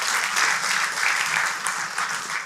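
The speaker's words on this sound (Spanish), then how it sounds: "Dele un aplauso fuerte al Señor" Church congregation applauding, a dense, even wash of clapping heard close and steady throughout the short stretch, with no talking over it.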